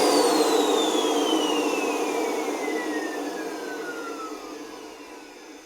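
A Henry HVR200M vacuum cleaner runs alone after a cable repair, giving a steady, fairly loud whooshing whir with a high falling whine that slowly fades over several seconds.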